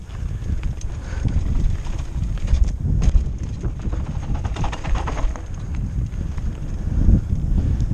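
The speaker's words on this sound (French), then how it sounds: "Ah, le magnifique vent breton, je suis désolé pour le son." Strong Breton wind buffets an outdoor microphone during a BMX session, a continuous loud low rumble with gusts swelling and easing throughout, no speech.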